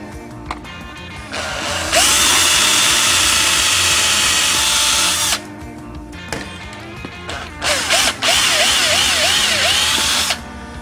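Cordless power drill driving screws to mount pickups into a Gretsch 5120 guitar, several loud whining bursts of varying length with pitch sweeps as the motor slows and restarts, close up, with brief quiet gaps between runs.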